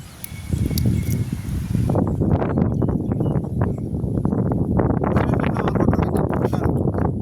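Strong wind gusts roar across an outdoor village setting, a loud continuous buffeting rush with flutters and rustles that holds steady after a brief quieter start.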